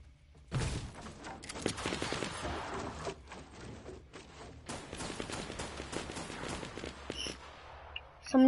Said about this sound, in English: Somebody's got a scoped AR. I could tell by the gunfire.